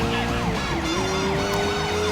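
A police car siren from the video game Sleeping Dogs wails steadily and loudly, its rising and falling tone running through the whole stretch over a low engine rumble, with no talking.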